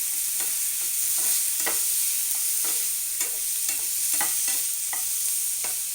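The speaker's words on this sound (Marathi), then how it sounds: "तेल टाकते बघू शकता त्याला थोडंसं हलवायचे" Food frying in oil in a pan while being stirred, with a steady bright sizzle and repeated scraping clicks of the utensil, close and continuous.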